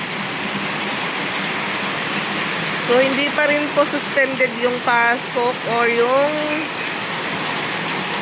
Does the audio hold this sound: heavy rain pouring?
yes